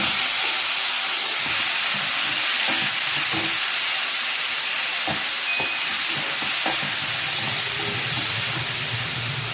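Green chillies and cucumbers frying in a pan, a constant loud sizzle and hiss with scattered spatula scrapes and clinks, no talking.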